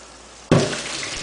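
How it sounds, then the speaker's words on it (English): Water and vinegar slosh and rinse through a rotator hookah base, opening with a sudden loud gush that settles into a steady close splashing pour. "Empty it. And again, rinse water through it a few more times."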